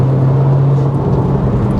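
A Subaru Impreza STI Spec C with an open air intake and HKS exhaust runs with a loud, steady low hum and a whirring layer, heard close and without voices.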